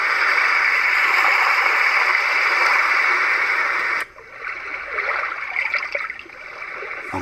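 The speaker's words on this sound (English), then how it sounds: "that sounds like the ocean." Roffie white noise sound machine playing an ocean track, a steady loud hiss of surf and rushing water that cuts to a quieter, sloshing wave pattern partway through, with no talking.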